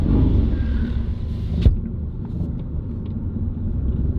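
Inside a moving car with the windows up, a steady low engine and road rumble drones throughout, with one sharp knock partway through.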